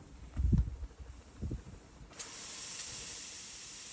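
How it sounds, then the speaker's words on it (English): Bollit spot cleaner with a defect emits a steady, soft steam hiss with no suction, after a few low thumps and handling knocks, close and fairly quiet. "And again, it's only steaming. There is no vacuum."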